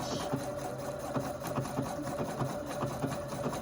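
A sewing machine runs a star stitch with a continuous, fairly quiet motor hum and a light rhythmic stitching texture, heard alone.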